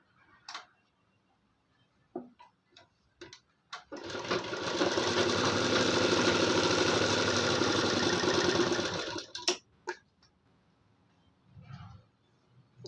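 A sewing machine stitches a blouse along its marked lines in one loud, steady run of several seconds, with scattered small clicks and handling sounds before and after it.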